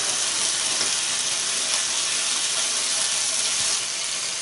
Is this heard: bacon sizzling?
yes